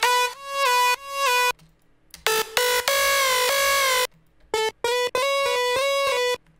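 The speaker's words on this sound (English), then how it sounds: "I made a couple of instruments with the same vocal notes." Synth instruments built from pitched vocal chop samples for an emotional EDM remix, heard as short choppy bright notes, then a held chord, then more stuttered chops, loud and with no talking.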